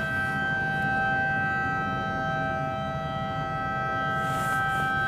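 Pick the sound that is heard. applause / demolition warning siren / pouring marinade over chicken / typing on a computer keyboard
demolition warning siren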